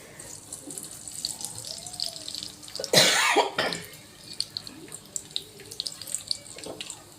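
Cumin and mustard seeds hit hot oil in a pan for stuffed okra with a sudden loud sizzling burst, then scattered crackling pops. A cough and a faint voice come through nearby.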